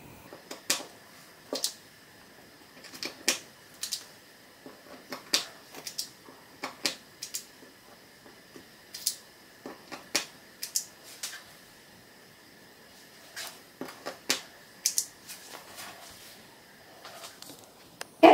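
Repeated soft clicks and taps from a plunger cutter pressing holly-leaf shapes out of rolled gluten-free gingerbread dough, spaced irregularly with short pauses, close and fairly quiet.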